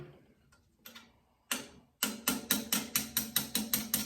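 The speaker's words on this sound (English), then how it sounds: "knock the pins out for the trigger assembly." Hammer taps knock out the trigger assembly pins on a Diana 34 air rifle: a few soft scattered knocks, then a quick steady series of sharp metallic taps, close and alone.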